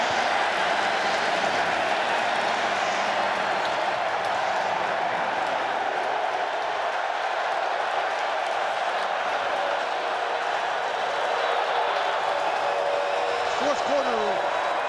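A stadium crowd roars without pause through the fourth quarter of an XFL football game between the Arlington Renegades and St. Louis Battlehawks, loud and steady throughout, with voices faintly audible beneath it.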